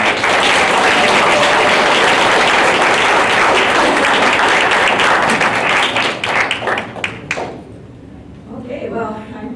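A conference audience at ICSD 2015 claps steadily and loudly to welcome a keynote speaker, a dense round of applause that thins into scattered claps before a voice begins speaking.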